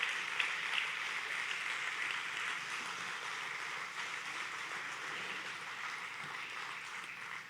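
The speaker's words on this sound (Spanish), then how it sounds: "Dale un fuerte aplauso a nuestro Rey." A church congregation applauding, a dense, steady wash of clapping from many hands that fills the room and holds evenly for several seconds before easing slightly at the end.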